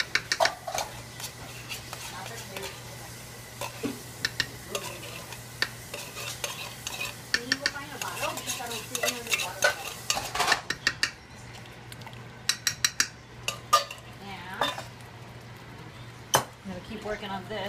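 Red curry whisked with coconut cream in a pan, faint scraping and clinks of a utensil on metal over a low sizzle, with people talking and louder clatters toward the end.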